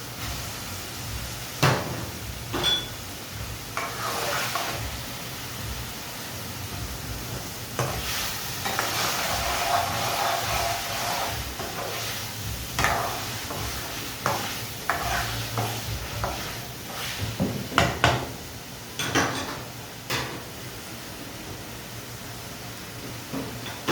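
Paneer stirred into a simmering masala in a pan for a Punjabi thali, a steady sizzle under repeated scraping strokes and clinks of the spoon against the pan, close by, with no talking.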